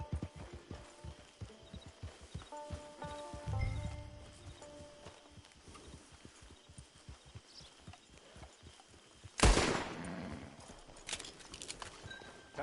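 Horse hooves clip-clop at a steady walking pace in Red Dead Redemption 2, close and rhythmic, with a brief louder burst near the end and little talk.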